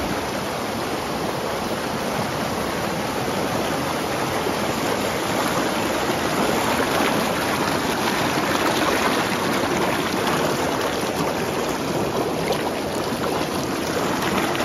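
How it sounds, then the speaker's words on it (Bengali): A waterfall pours down over rocks near a hill lake, producing a loud, continuous broadband rush of water with no breaks and no voices. "ঝর্ণার পানি পাথরের ওপর দিয়ে বেয়ে নিচে নামছে, আর সেই পানির শব্দে পাহাড় যেন কথা বলছে।"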